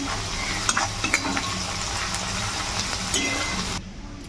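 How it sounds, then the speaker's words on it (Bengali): Onion and garlic sizzle steadily in a hot pan, with occasional clinks of stirring, then the frying sound drops away near the end. "যতক্ষণে পেঁয়াজ রসুনটা ভাজা হচ্ছে"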